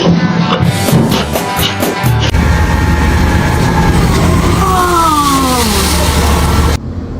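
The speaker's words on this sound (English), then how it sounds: "They're throwing out a boat right into the garbage truck." A garbage truck's loud machinery roars and grinds as it crushes a boat thrown into it, with heavy rumbling, clanking and whining mechanical tones running continuously throughout, no talking.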